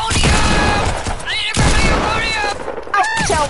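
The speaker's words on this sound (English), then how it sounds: "Them flick shots, though. 360 hand cannon shot." Hand cannon shots fire in a video game as sharp, booming bursts in quick succession. Excited voices talk over them throughout.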